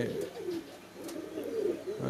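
Pigeons coo in a farm loft, giving repeated low, throaty, rolling calls close by in quick succession.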